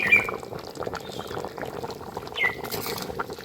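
Ghee is poured into a jackfruit curry resting on a switched-off stove, making soft, quiet liquid splashes and faint sizzling, with a couple of light utensil clinks.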